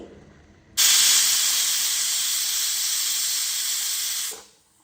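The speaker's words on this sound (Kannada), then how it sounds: "ಇವಾಗ ನೋಡಿ ಇದು ಒಂದು ವಿಷಲ್ ಆಗಿದೆ" Pressure cooker whistle while cooking taro root curry, one sustained loud steam hiss lasting about three and a half seconds, starting abruptly and fading out at the end, heard alone.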